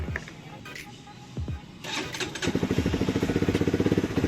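A Rusi Flash 150X motorcycle engine starts and settles into a steady, rhythmic idle, close and fairly loud, after a few brief mechanical clicks.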